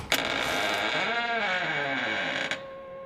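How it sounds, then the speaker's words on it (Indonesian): A window is pushed open with a long, drawn-out creak whose pitch bends and wavers, loud and close, ending in a soft thud. "terdengar suara seseorang membuka pintu jendela"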